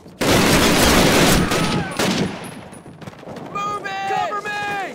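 Call of Duty gunfire in a wartime battle: a loud, dense burst of rapid rifle and machine-gun shots that thins into scattered cracks, with shouted voices and whistling tones over the tail end.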